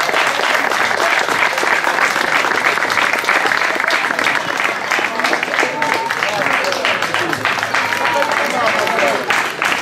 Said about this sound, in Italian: l'ultimo applauso e poi tutti congedati